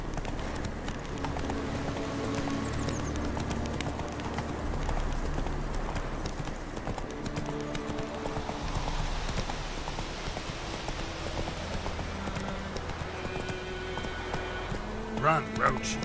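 A horse gallops in The Witcher 3 video game, with rapid hoof clip-clops running throughout alongside rustling and ambient game sound, while speech can be heard over it.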